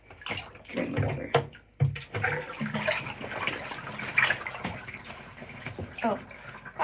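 Bathtub water runs and gurgles as wetsuits are being washed, a continuous close wash of sound with speech mixed in over it.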